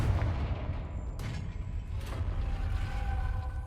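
A Confringo fire spell blasts in the Hogwarts Legacy video game, a loud booming burst with crackling rumble and two sharp whooshing hits across a few seconds.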